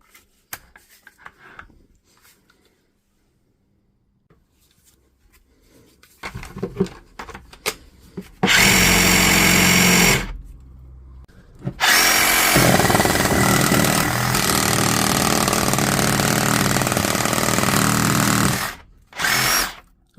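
A repaired DeWalt DCS355 oscillating multi-tool is tested after its screws are tightened. A few taps and clicks come first, then it runs loud and close in a long burst, stops briefly, then runs again and cuts off near the end.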